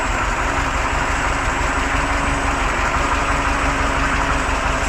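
An eight-cylinder KAMAZ truck engine converted to run on methane idles steadily during break-in after startup, a loud, even diesel-like rumble with a constant rhythmic throb and no voices.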